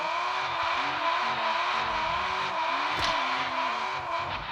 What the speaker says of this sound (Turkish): Bir dənə test drive eləyək. Drift maşını.